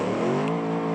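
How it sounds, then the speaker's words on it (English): Ford Mustang TA2 race car engine in BeamNG.drive, held at steady high revs with a loud, dense harmonic drone and slowly rising pitch, close and alone. "that's a very loud engine"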